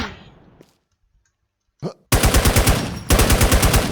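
Rapid automatic gunfire from a video game, coming in two loud sustained bursts of quick, evenly spaced shots after a near-silent gap and a single short pop.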